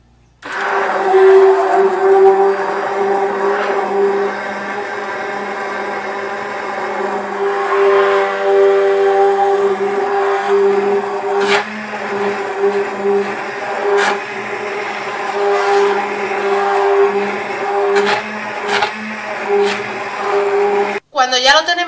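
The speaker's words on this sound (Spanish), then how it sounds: "vamos a coger nuestra batidora de mano y vamos a remover con la batidora durante un par de minutitos" A hand blender motor whirs steadily with a high, sustained tone as it mixes liquid soap, its pitch wavering as it churns, with a few brief clicks and knocks along the way.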